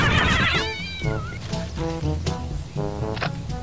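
Cat in the game Postal 2 letting out a series of loud, close meows and yowls, several drawn-out cries in quick succession, with no talk over them.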